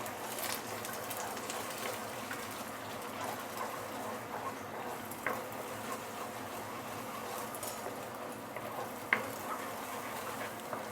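Egg for Thai fried rice scrambles and fries in a hot pan, a faint continuous sizzle with a few soft scraping stirs and small clicks, steady and quiet throughout.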